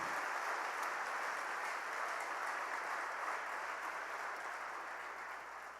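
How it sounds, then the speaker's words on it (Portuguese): A church congregation applauds during a sermon, a soft, even wash of many hands clapping that sounds fairly distant and sustained throughout, fading slightly at the end over a faint low hum. "Aplauda mesmo a Jesus, Ele é digno."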